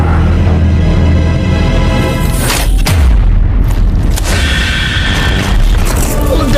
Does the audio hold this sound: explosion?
yes